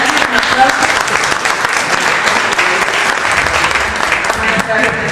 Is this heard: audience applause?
yes